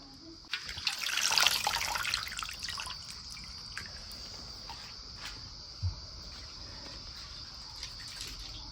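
Water pours into a freshly cleaned kadhai (wok) in a village kitchen. A fairly close, splashing gush swells for about two seconds and then settles into a faint trickle and drips.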